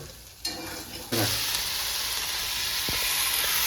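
Tomatoes frying in a pan for a bitter gourd fry and egg thokku dish, a steady bright sizzle that jumps louder about a second in and holds, with faint stirring clinks and no talk.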